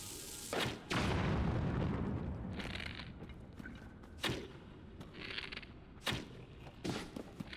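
Bomb flower explosions in Zelda: Tears of the Kingdom: several sharp booming blasts spaced irregularly, the first followed by a long rumbling roar, others brief thuds with debris clatter, no talking.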